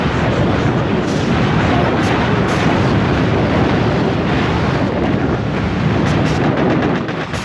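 Boom cannons firing in a video game during a map clear, a dense, continuous rumbling barrage of heavy blasts that stays loud and sustained throughout.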